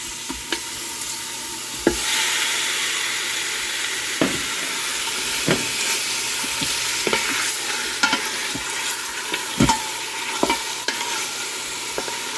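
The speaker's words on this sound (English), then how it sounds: "Start by adding your meat to the hot oil." Beef sears in hot oil in an Instant Pot on the high sauté setting, a loud continuous sizzling hiss with periodic scrapes and knocks of a stirring utensil, close and without voices.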